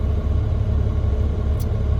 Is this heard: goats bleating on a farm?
no